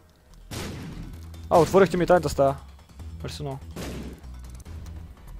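Bombs exploding in The Binding of Isaac video game, several thudding blasts scattered through the clip, mixed with game music and an excited voice talking over them.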